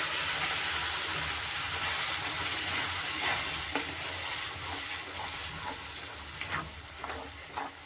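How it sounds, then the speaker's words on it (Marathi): Tomato puree frying and being stirred in a pan, a steady close sizzle with soft scraping strokes of a spoon through the thick paste. "आता आपल्याला ही प्युरी छानपैकी शिजवून घ्यायची आहे."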